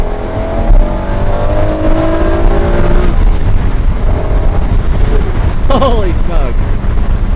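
A 1996 Acura NSX engine is revved through the gears, heard from inside the cabin: rising, climbing engine tones run under steady wind and road noise, then fall and give way to quick rev blips on the downshift.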